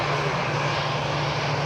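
An EasyJet Airbus A320-200 departing for London Gatwick: loud, continuous jet engine roar with a strong steady hum, close and unbroken, no talking.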